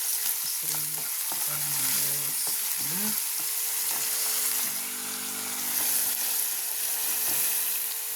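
Chopped onion and spring onion fry in a pan with a constant sizzle, stirred several times by a utensil that scrapes and clinks close up. A faint watery background runs underneath.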